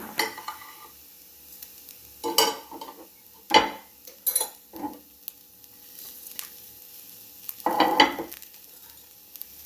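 A spoon stirs a sweet filling in ghee in a pan, giving soft scrapes and faint sizzles in a few separate strokes, quiet against near silence.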